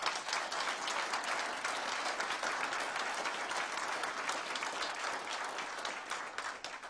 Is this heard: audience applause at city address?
yes